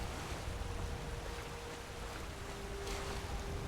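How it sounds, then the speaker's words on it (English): A waterfall in the video game Skyrim gives a steady, broad rushing roar that fills the whole stretch without pause, loud and even, with no voices over it. "Just a waterfall."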